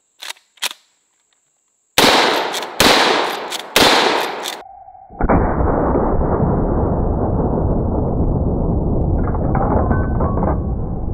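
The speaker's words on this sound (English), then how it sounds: "Let's do a mag dump." Rapid shots from a lever-action rifle emptied in a quick string: a few sharp reports, a short pause, then a cluster of loud bangs followed by a long steady noisy roar.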